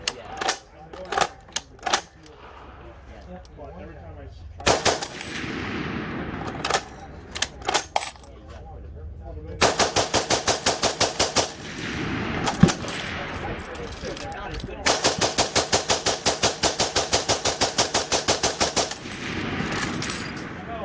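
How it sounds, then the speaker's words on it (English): Cloth ammunition belt rattling through an MG34 converted feed block on a Maxim machine gun, heard as clusters of rapid metallic clicks and ratchets in bursts, close and fairly loud, with a few pauses between runs. "This is the standard belt, cloth belt going through the MG34 converted feed block."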